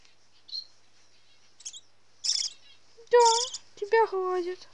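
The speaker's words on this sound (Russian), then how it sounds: "вот такой смешной птенчик Сипухи" A young barn owl chick calls in a series of short, high, squeaky rasping chirps, spaced irregularly and growing louder toward the end, heard close up in a quiet room.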